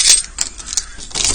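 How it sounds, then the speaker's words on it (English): Car keys for a V8 Land Rover jangle briefly and close by, with a few bright metallic clinks. "Helps if you have the keys."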